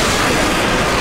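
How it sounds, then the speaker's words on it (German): A vacuum cleaner runs close by with a loud, steady, broadband whoosh that holds evenly for about a second, with no voices. "Komm, mach den Staubsauger aus."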